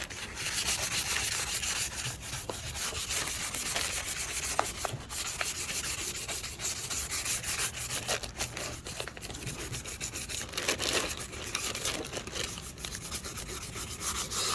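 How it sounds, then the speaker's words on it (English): Steady, close dry sanding with 400-grit sandpaper on a cracked plastic taillight, a continuous soft rasping scrub that runs throughout and is not interrupted by talk. "I'm gonna start sanding it with 400 dry."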